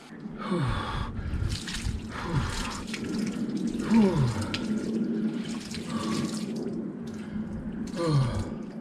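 Someone lowers into a 7-degree outdoor ice bath with repeated water sloshes and splashes, broken by sharp gasping breaths close to the microphone.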